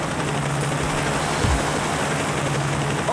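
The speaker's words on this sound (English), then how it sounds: "SWAT helicopter inbound!" A SWAT helicopter arrives in the video game Payday The Heist, heard as a steady, dense rotor and engine roar with a low hum underneath. It stays loud and constant throughout, with no talking.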